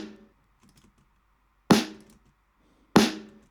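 A snare drum recorded on an iPhone and run through a compressor, with sustain trimmed by a transient control: two sharp, punchy hits about a second apart, each decaying quickly, with a faint trailing tail from an earlier hit at the start.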